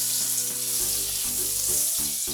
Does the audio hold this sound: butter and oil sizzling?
yes